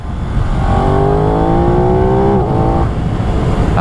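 An Aprilia RS660 motorcycle accelerates hard in second gear on a countryside road, its engine note climbing steadily in pitch, loud and close, then briefly dipping before pulling again, with heavy wind rush underneath.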